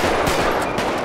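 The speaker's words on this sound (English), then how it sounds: "Oh, they have a shootout over here." Dense burst of gunfire from a shootout in GTA 5, loud and continuous with overlapping rapid shots and no pause.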